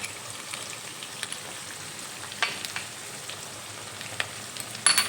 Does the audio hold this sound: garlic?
yes